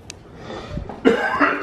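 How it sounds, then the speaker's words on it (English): A man coughs indoors during an Easter dinner: a short throat sound, then a loud, harsh burst of coughing close by. "Stop coughing."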